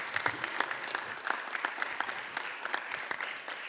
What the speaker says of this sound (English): Let's give them all a round of applause for being here.